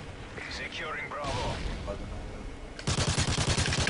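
Scorpion submachine gun fire in Call of Duty: Modern Warfare 3, a fast, loud burst of rapid shots in the last second, after game noise and voices talking over it.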